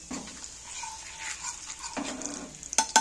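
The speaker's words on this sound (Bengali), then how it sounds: "ওটা ঘিয়ের মধ্যে ভেজে নিন" Kashmiri red chili powder frying in hot ghee with the gas turned off: a soft, low sizzle with stirring, ending in a couple of sharp utensil clinks.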